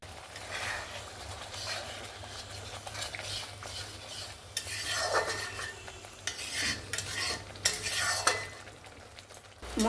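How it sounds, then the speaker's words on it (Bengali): Spice paste for an egg curry fried in little oil with splashes of water, a steady low sizzle under scraping and clinking of a spoon stirring in the pan, close and continuous with no talking. "বারবার একটু জল দিয়ে দিয়ে আমি মশলাটাকে কষিয়ে নেব"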